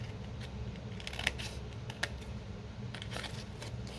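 Scissors snip through Tim Holtz paper scraps in a few quiet, scattered cuts, faint crisp clicks over a soft room hush.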